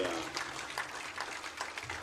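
A crowd at a high school boys soccer game applauds a Corry senior player, with steady clapping running through the whole two seconds and a voice faintly mixed in.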